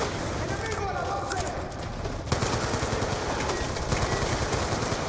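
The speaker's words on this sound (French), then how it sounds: "C'est pas mal les caméras qui tirent." Automated turret cameras fire bursts of machine gun rounds in Call of Duty Black Ops 2, a dense, continuous rattle under a man's speech.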